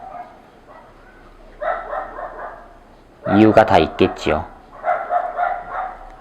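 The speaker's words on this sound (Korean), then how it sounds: "갑자기 개들이 짖고 있죠?" Several dogs barking outside an open window, a burst of loud, rapid barks in the middle with fainter yaps before and after, while someone speaks indoors.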